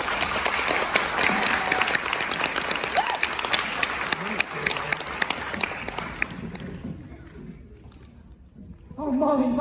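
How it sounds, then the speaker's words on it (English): A high-school theatre audience at a stage play claps loudly and steadily, the applause fading out before voices from the stage take over at the end. "Clap if you believe!"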